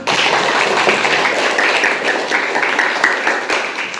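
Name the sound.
applause, clapping for everyone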